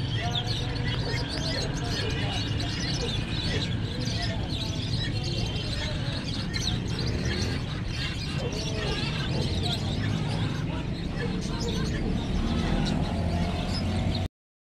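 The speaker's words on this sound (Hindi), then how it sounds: "ये माशाल्लाह से फैंसी कबूतर आ गए" Fancy pigeons coo amid chirping birds at a crowded pet market in Quetta, a soft, continuous murmur of calls against dense background bustle.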